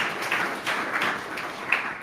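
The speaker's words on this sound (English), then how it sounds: "So clap once if you can hear me. Okay, clap twice." A live-show audience claps, a cluster of quick, overlapping handclaps from a group of people in a room, moderately loud and with no talking over it.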